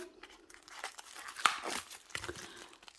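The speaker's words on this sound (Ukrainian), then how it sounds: "цей пакетик розривається" Crinkly plastic rustling with a sharp rip near the middle, a packet being torn open close by, quiet and handled.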